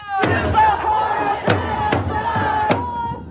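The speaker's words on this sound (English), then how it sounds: "the sound of protest was nearly constant." A college campus protest crowd against the war in Gaza chants in rhythmic unison, voices rising in repeated shouted bursts roughly every half second to second, loud and continuous.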